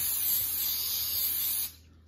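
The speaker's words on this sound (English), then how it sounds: "spray my loaf pan" A steady cooking spray hisses close up onto a small loaf pan for over a second and a half, then cuts off abruptly, leaving quiet room tone.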